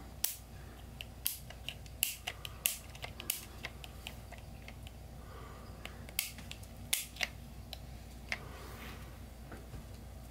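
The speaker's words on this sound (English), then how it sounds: "So we'll push down all the pins between 10 p.m. and 6 a.m." Small plastic pins on a mechanical timer switch snap down one after another in quick, irregular clicks, quiet and close, with brief pauses between bursts.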